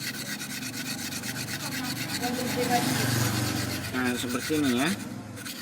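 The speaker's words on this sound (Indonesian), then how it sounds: "mau saya amplas lagi nih menggunakan batu gosok ini ya" A fine whetstone rubs steadily back and forth over a Kalimaya opal stone to sand it, a continuous close scraping rasp while someone talks over it.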